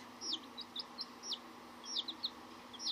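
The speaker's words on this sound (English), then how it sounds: "So this is baby chicks." Dyed baby chicks kept as new pets peep in high, thin bursts, a few short rising calls at a time over a steady background hum, close by and fairly soft, with no voices.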